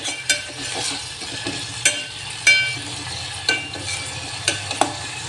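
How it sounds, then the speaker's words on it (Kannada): Onion, tomato and curry leaves fry in hot oil for a spicy okra stir-fry, a steady soft sizzle broken by sharp, irregular scrapes and clicks of a spoon stirring the pan, with no talking. "ಎಣ್ಣೆ ಚೆನ್ನಾಗಿ ಕಾದ್ಮೇಲೆ ಈರುಳ್ಳಿ, ಟೊಮ್ಯಾಟೊ, ಆಮೇಲೆ ಕರಿಬೇವು ಹಾಕ್ಕೊಂಡು ಫ್ರೈ ಮಾಡ್ಕೊಳ್ರಿ."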